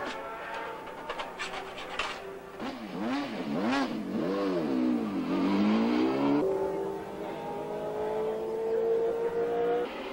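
A 1987 All Japan F3000 race car at Fuji Speedway, its engine revving loudly through rising and falling gear changes before settling into a sustained high drone as it accelerates past, close and dominant.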